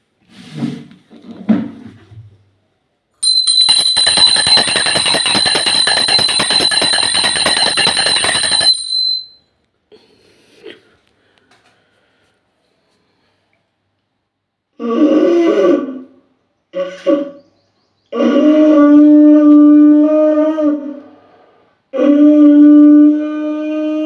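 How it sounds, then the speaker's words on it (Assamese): A prayer hand bell rings in a steady, rapid shimmer for about six seconds during a morning home worship. After a pause, a conch shell sounds in several long, droning blasts, each separated by short gaps. "মই প্ৰত্যেক ৰাতিপুৱাই টিলিঙাটো বজাওঁ আৰু শংখ বজাওঁ"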